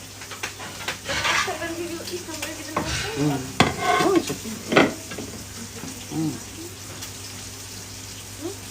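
Food is stirred and fried in a hot wok, with a steady sizzle and irregular scraping, clanking strokes of a utensil against the metal, louder in bursts through the middle and settling toward the end.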